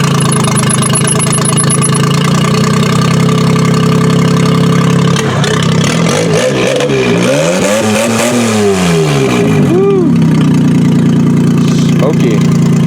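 Car engine cranking for a few seconds and then catching, running rough with a plugged exhaust, revving up and down loudly close to the microphone while people talk nearby.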